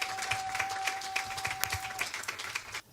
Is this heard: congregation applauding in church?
yes